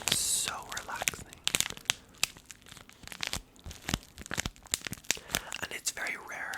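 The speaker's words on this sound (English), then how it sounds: "I have this little tea packet. It is a green tea with berries, but I just find the crinkling so relaxing." A small packet of green tea with berries is crinkled and handled up close, giving dense, irregular crackles and crunchy bursts over soft whispering.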